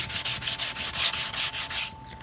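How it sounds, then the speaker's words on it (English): Sandpaper of 120 grit rubs back and forth on the wood of a three-legged stool in about ten quick, even strokes, loud and close, with a faint steady hum beneath and no talk. "I'm going to switch to my 120 grit."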